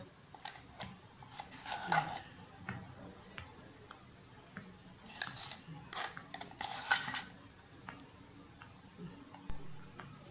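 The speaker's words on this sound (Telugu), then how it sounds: "ఆయిల్లోని బాగా కలిసిపోయేలాగా కలుపుకోవాలి" Ground ginger pickle being mixed into cooled oil, heard as repeated close metallic spoon clinks and scraping against a vessel, steady and irregular, with someone talking throughout.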